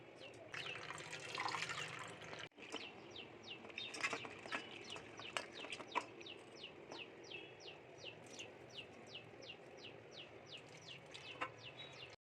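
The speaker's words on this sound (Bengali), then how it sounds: "প্রায় 1 কাপের মতন ছোলার ডাল 4 থেকে 5 বার জল দিয়ে ধুয়ে ভিজিয়ে রেখে দেব কিছুক্ষণের জন্য।" Chana dal rinsed with water in a home kitchen: quiet running and splashing water with soft handling sounds, while birds chirp repeatedly in the background.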